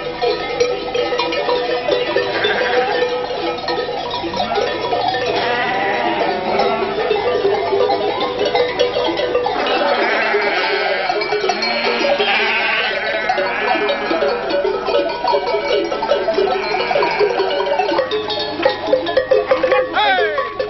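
A flock of sheep wearing bells moves along narrow mountain paths toward Alpine pastures near Notre-Dame de la Salette, with bells clanking continuously and sheep bleating throughout, while a voice talks over part of the scene.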